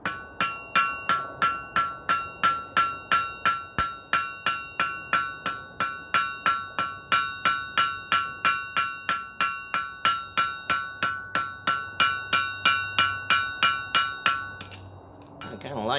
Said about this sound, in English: let's peen around this thing